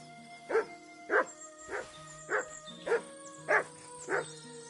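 Mutt the dog barks in Kingdom Come Deliverance 2, a run of seven evenly spaced, fairly close barks over a steady droning background of game music or ambience.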